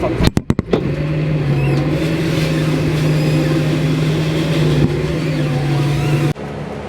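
A car passes on a road with a steady engine drone and a low hum holding throughout, preceded by a few sharp knocks at the start, and ending with an abrupt drop in level.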